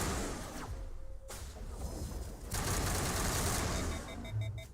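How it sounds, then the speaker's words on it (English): Gunfire in the sci-fi shooter game Mass Effect, bursts of rapid shots and swooshing weapon sounds mixed with a steady hiss of game ambience, fairly quiet overall. "I hear gunfire."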